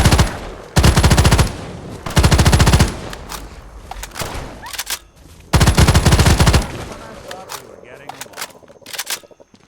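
Automatic gunfire in the video game Fallout 4, three loud sustained bursts of rapid shots separated by pauses, with scattered single shots, echoes and game noise between them.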